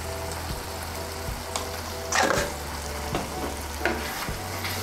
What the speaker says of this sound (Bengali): গরম মশলার গুঁড়োটাকে ভালো করে মিশিয়ে নেব।